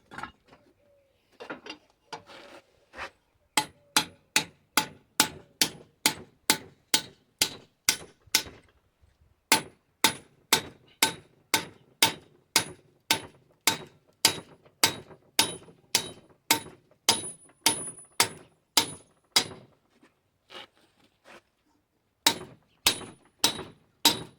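A hammer drives a metal bushing into place with a long run of steady, sharp strikes at a regular rhythm. A few irregular taps come first, and the strikes break off briefly midway and again near the end.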